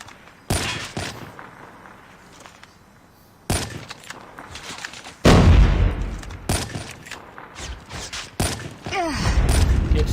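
Sniper rifle shots in a competitive video game match, sharp sudden cracks and bursts spaced irregularly among game noise, several loud blasts standing out with faint commentary underneath.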